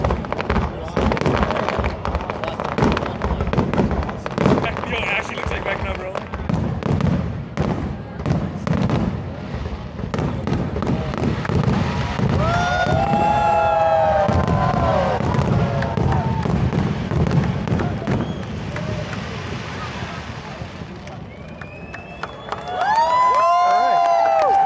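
Fireworks bursting over Niagara Falls at night, a long run of sharp loud booms and crackles with whistling rockets rising, crowd noise and scattered voices underneath throughout.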